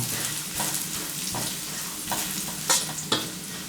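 Curry paste and garlic stir-fried over medium heat for a northern Thai chilli paste, giving a continuous close sizzle with periodic spatula scrapes and a couple of sharper metallic taps.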